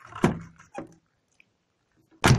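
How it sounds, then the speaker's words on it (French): A Peugeot 407 car door, a replacement panel being refitted, swings shut with a solid thunk near the end, preceded by a couple of softer knocks and handling sounds, then a brief quiet gap. "c'est de fermer la porte"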